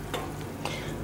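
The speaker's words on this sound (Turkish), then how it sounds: "Sosum kaynıyor arkadaşlar." Tomato-and-vegetable sauce for bonito fish bubbles and simmers in a pot with a soft, continuous sizzle and faint pops, quiet and close with no talk.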